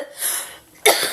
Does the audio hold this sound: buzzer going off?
no